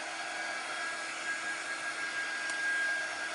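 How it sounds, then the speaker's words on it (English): Small air dryer blowing on a craft project, a steady, moderately quiet hiss of moving air with a faint constant whine, running unchanged throughout. "I'm just going to make sure this one is just like an air dryer. It doesn't get very hot. It's more like just air."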